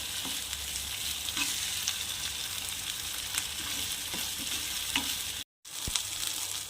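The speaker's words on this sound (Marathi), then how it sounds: "मसाला छान पकू द्यायचा आहे आणि तेल सुटेपर्यंत छान याला असं परतत राहायचं आहे बघा" Masala sizzles and fries steadily in oil while being stirred for chickpea (chana) masala, a constant close crackle with a brief silent gap near the end and no voices.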